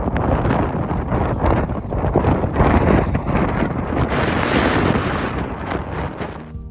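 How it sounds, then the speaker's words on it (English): Strong, sustained wind gusts of a squall roar across an exposed winter summit in the White Mountains near Eisenhower, a broad rushing buffet that swells and eases, with heavy wind noise battering the microphone throughout. "It's the edge of a little gust front that's coming in."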